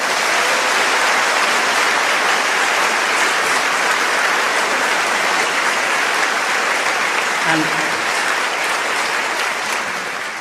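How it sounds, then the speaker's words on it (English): Sustained audience applause from a crowd, loud and dense clapping filling the room for about ten seconds before tapering slightly at the end. "that applause was for you and your ancestors"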